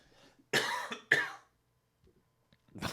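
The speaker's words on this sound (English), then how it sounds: "Hold on, I'm going to cough." Two sharp, close coughs in quick succession, then a brief quiet before someone starts talking again.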